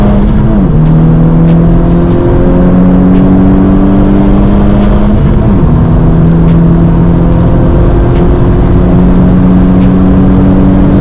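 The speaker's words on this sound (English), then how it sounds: "So much wind noise." Loud roaring road and wind noise fills the cabin of a moving 350 bhp Scirocco R at night, with engine hum shifting through gears and constant rushing air.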